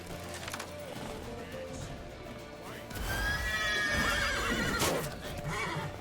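Horse hooves thud and a loud, shrill neigh rings out in the video game The Witcher 3: Wild Hunt, with the whinny rising in the middle over rumbling game noise.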